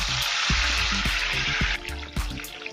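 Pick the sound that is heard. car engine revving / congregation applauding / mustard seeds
mustard seeds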